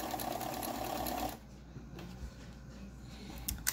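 A sewing machine runs a wide zigzag stitch, securing a pipe cleaner onto fabric for a face mask. Loud steady whirring for about a second and a half, then a quieter mechanical hum for the rest.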